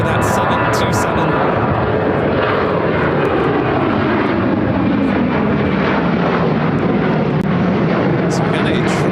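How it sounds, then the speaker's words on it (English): A China Southern Cargo Boeing 777 freighter arriving at Chicago O'Hare, its broad jet roar steady and loud throughout, with voices talking over it. "Next heavy arrival at China Southern Cargo, Flight 437, coming in from Anchorage on the 777 freighter, number 2 for arrival."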